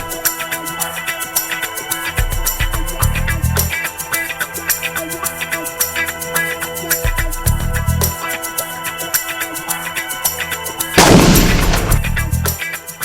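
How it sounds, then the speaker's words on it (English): A single loud shot from a Musgrave Field Deluxe .308 hunting rifle rings out near the end during a springbuck hunt, over constant outdoor background noise. "Eventually he stood up and we managed to take aim with a Musgrave rifle."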